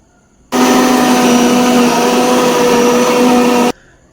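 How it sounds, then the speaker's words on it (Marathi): Kitchen mixer grinder whirring loudly as it grinds roasted coconut masala, switched on abruptly and running at a steady high-pitched drone for about three seconds before cutting off, with no voices. "आपण वाटणात टाकलं आणि मस्तपैकी मिक्सर लावलं आहे"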